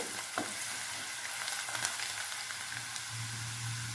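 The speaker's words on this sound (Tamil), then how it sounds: "பூண்டு வெங்காயமும் நல்லா வணக்கிடலாங்க" Garlic and onion sauté in a pan for a chappathi side dish, giving a steady, close, busy sizzle with occasional stirring scrapes and no voices.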